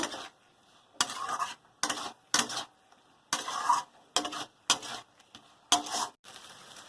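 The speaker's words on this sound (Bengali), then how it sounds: "আলুটা কিছুক্ষণ নেড়ে কষে নিচ্ছি" Fried potatoes sautéed in a pan with gravy, stirred in distinct bursts of scraping and clattering, about ten strokes separated by near-silent pauses, close up.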